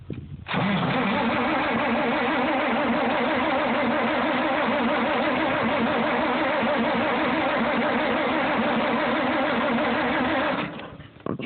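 A Farmall 460 tractor engine cranks hard on a cold start, a loud, continuous rhythmic churning of the starter and engine that runs for about ten seconds before stopping, with no talk over it.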